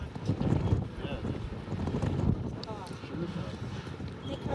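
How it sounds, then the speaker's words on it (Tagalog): Strong wind buffets the microphone on a swinging bridge, a constant low rumble and rush filling the scene, with people talking underneath. "Sobrang lakas na hangin."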